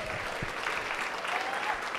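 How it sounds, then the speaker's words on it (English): An audience applauds panelists at an evening climate talk, with steady dense clapping sustained throughout at close range and no speech over it. "So let's just go ahead and get a big round of applause for our panelists tonight."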